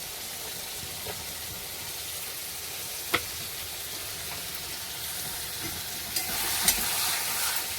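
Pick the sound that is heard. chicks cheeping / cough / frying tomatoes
frying tomatoes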